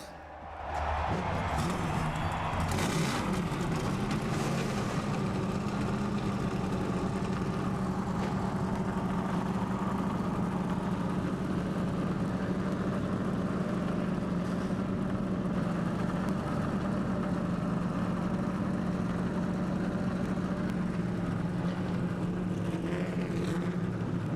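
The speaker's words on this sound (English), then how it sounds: "Gentlemen, start your engines." Several NASCAR Nextel Cup stock car engines fire up and idle together at Daytona before the 2007 Budweiser Shootout, a steady loud low rumble that holds throughout after a brief burst of revving at the start.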